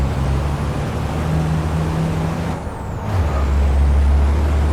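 FIA European Truck Racing race truck rumbling loudly at close range, its air brakes hissing in a sustained broadband rush, then a deep low engine drone swelling as the truck pulls away.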